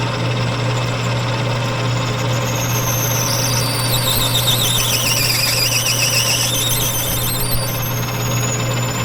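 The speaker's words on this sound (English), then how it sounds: "that squealing noise was this thing packing up with brass" A drill bit squeals loudly as it packs up with brass while boring a custom brass fitting on a manual machine, a high wavering whine over a steady grinding machine drone.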